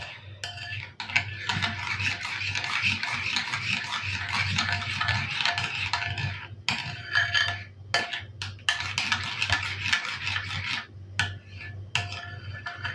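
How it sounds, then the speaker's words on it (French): Flammekueche mixture stirred in a bowl, making a steady close scraping and rubbing that runs on for several seconds, breaks off briefly, then resumes with a few sharp knocks. "Et on remue."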